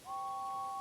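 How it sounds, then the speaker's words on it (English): A steam locomotive whistle from Thomas & Friends gives one sustained, steady two-tone blast of just under a second, clear and close with no talking. "Gordon whistled goodbye as he watched James puff away"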